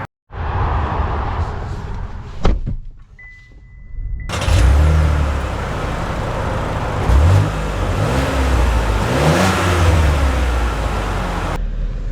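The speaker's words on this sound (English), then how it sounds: "let us set off here in the XT5" A 2025 Cadillac XT5 Sport SUV sets off from rest, its engine rising steadily under acceleration, with a whirring drivetrain and road noise inside the cabin and a brief mechanical click early on.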